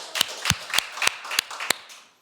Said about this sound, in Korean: 우리 하나님께 영광이 박수입니다.